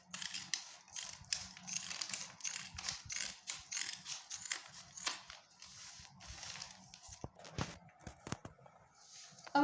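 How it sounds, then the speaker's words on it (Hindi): Scissors snip through cloth cut from an old shirt and pillow cover, a quick run of sharp cuts that slows into scattered separate snips, close and faint, with no talking. "अब हम ये इस दूसरे भाग की कटिंग करते हैं।"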